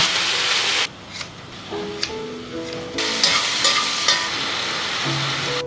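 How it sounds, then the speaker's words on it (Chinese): Beef rib strips sizzle loudly in thin oil in a pan over low heat, a constant close crackle with occasional scraping and stirring noises. "锅中薄油，全成小火，煎至底部微焦后翻面"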